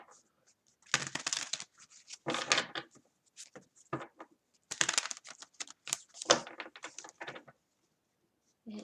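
Tarot cards are shuffled in quick riffling bursts, several separate rounds of papery rustle and snapping with short quiet pauses between, close and fairly soft.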